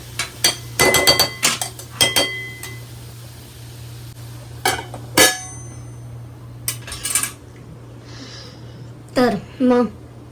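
Metal lid clanks onto a pan of steaming vegetables with a few sharp clinks and clatters of pots and utensils, loud and close, in separated bursts with quiet gaps between.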